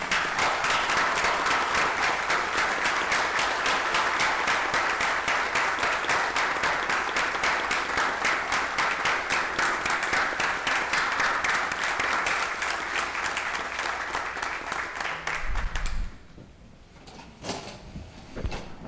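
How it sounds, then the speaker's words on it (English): A meeting audience of the Texas Board of Criminal Justice and Windham School District board gives a round of applause honoring Patrick O'Daniel: steady, dense clapping for about fifteen seconds that stops abruptly, followed by quiet room noise and a few shuffles. "Would you all please join me in honoring Patrick O'Daniel with a round of applause."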